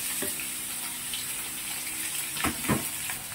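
Pork lungs sautéing in a pan for a Bicol-style ginataang baga, a steady wet sizzle and hiss with a few louder spattering bursts near the end, no voices.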